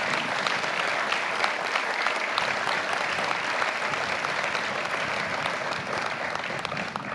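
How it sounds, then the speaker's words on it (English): At a law enforcement award ceremony, an audience gives widow Valerie Tibbetts a long, dense round of applause that stays steady and full throughout. "Let's give her a round of applause and some special recognition."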